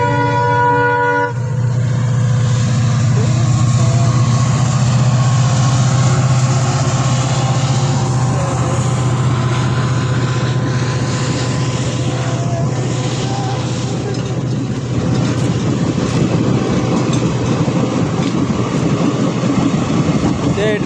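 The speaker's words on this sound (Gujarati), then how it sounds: "જો જો હવે ટ્રેન આવશે, તમને હાલો ટ્રેન દેખાડું।" A train rumbles past a railway level crossing in Gujarat on a rainy morning, a loud steady roar throughout with a long horn-like tone early on and a voice speaking over it.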